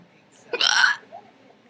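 A person hiccups once, a sharp, close vocal gulp, in an otherwise quiet indoor setting, with a faint sound starting right at the end.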